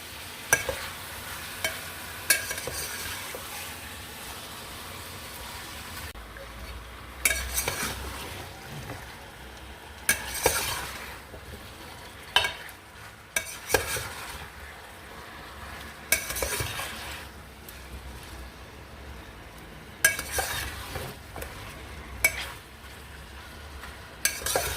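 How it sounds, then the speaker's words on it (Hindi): Chicken for nihari fries in a pan while being turned, bursts of sizzling and scraping stir strokes rising and falling over a steady background hiss, close by, with no speech. "अच्छे तरीके से 5 मिनट हम इसको भून लेंगे।"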